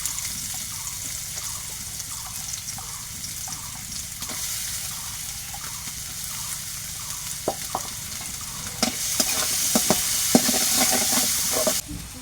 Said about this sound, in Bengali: কড়াইতে তেল দিয়ে দিছি এখন পিস দেবো